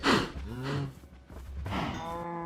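Cows moo in the game Minecraft during a survival-mode farm scene: two drawn-out, fairly loud bovine calls, one after another, with no talking.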